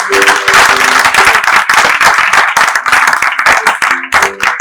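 A church congregation at a Paris Sunday service claps loud and dense in acclaim for Jesus, steady applause filling the room with faint voices mixed in.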